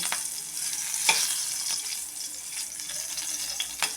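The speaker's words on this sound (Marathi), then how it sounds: "आता मिरची एक मिनिटभर आपण परतून घेऊया" Green chilies fry in hot oil in a pan, giving a steady close sizzle broken by a few sharp scrapes and clicks of a stirring spoon.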